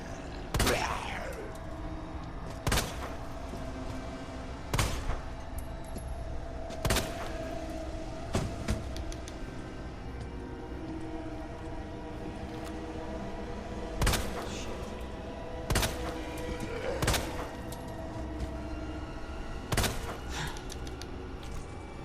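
Gunshots fired in the survival horror game Resident Evil 2, about eight sharp reports spaced a couple of seconds apart over a low, dim backdrop of ambient game sound.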